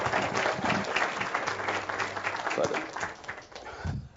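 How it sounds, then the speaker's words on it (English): Audience applause for a speaker at a formal talk, a dense, close round of clapping that swells and then fades near the end, with some voices mixed in. "Let's give him another round of applause."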